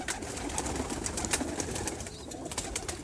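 High flyer pigeons with purple feet coo at a loft setup in Multan, a steady murmur of soft cooing with scattered bird calls over the whole stretch, fairly close and moderately loud.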